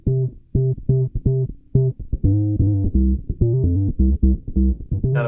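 A bass guitar played through a Boss OC-2 octave pedal set for full sub-octave gives deep, rounded sub-bass notes in a rhythmic repeated line, clean and close with no voices over it.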